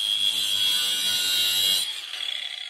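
An angle grinder cutting along a line on a workpiece, a loud steady high-pitched whine and grinding hiss that drops off near the end into a rougher, fluttering wind-down.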